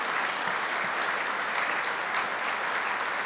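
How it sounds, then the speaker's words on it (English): An audience at a city's State of the City address applauds, a thick steady wash of clapping that fills the whole stretch with no break. "Please stand up and get a big round of applause."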